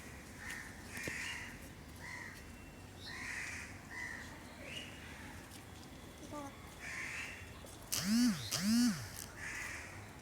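Crows cawing from trees around quiet, empty school grounds, with scattered caws through the clip and a louder, closer pair near the end over a low background murmur.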